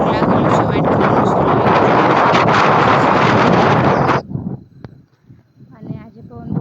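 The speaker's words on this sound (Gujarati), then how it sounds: "અને આજે પવન બહુ મસ્ત છે" Strong wind blows on a rooftop in a village, a loud rushing roar for about four seconds before dropping to faint gusts and small knocks.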